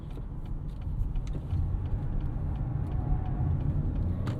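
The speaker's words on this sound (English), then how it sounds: "These tires make quite a bit of noise." Tire road noise from a 2025 Acura RDX A-Spec Advance SUV with a turbo K20 engine, heard from inside as a steady, loud low rumble that holds constant while driving.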